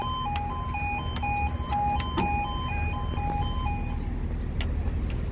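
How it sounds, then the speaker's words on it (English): Cars crossing the Barmouth South level crossing, heard as steady road traffic rumble with a repeating two-tone electronic warning tone sounding throughout and no talk. "Bunch of cars on the crossing."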